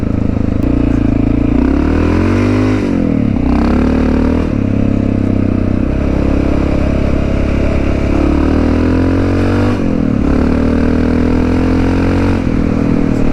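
Honda XR650L dual sport motorcycle ridden on a paved country road, its loud single-cylinder engine droning steadily with repeated rises and dips in revs as the rider shifts, close and alone with no talk.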